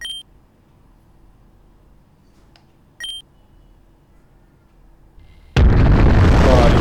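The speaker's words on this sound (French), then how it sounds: "Oh, l'explosion." A reactor explosion in the fan-made video game Pokemon Uranium, where a couple of short electronic beeps sound over a quiet hum before a sudden loud, sustained roaring blast fills the rest of the clip.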